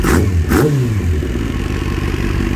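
A motorcycle engine revs up loudly and close by, rising in pitch twice before settling into a rough, clattering idle.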